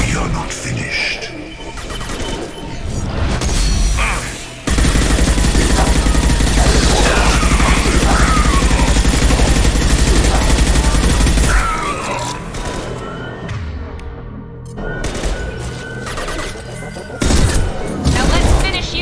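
Heavy gunfire from the Mass Effect 2 video game, loud and dense for several seconds in a sustained burst, with scattered impacts before and after, mixed with game voices speaking over the combat.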